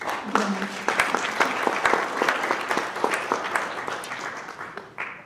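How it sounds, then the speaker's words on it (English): A high-level reception audience applauds journalists, steady mid-level clapping from many people that tapers slightly toward the end. "let's give a round of applause for the journalists"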